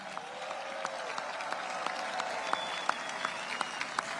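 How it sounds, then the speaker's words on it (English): An audience claps in steady sustained applause for the King and Queen of Belgium at a Brussels celebration, a dense even patter of many hands with a few sharper claps standing out. "A round of applause for the King and Queen of Belgium."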